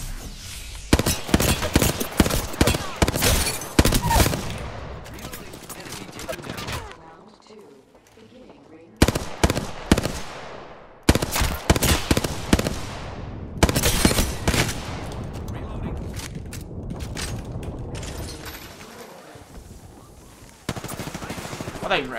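Rapid automatic gunfire and single shots from Apex Legends come in dense bursts, loud and close, broken by brief pauses, with players talking over the action.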